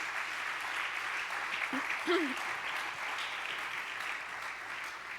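A church congregation applauds as a steady, dense patter of many hands that holds evenly throughout, with a faint voice briefly rising over it near the middle.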